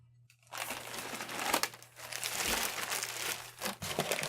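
Packing material crinkles and rustles while a GORUCK GR1 Heritage 21L backpack is unboxed, close-up crackling handling noises in uneven bursts after a brief silent start.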